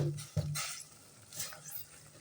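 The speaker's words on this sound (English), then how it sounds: "This is the minced meat over here, still cooking." Minced meat with chili and pepper cooking in a pan in a kitchen, a utensil scraping and stirring through it with a faint sizzle, quiet and close with a couple of brief louder scrapes.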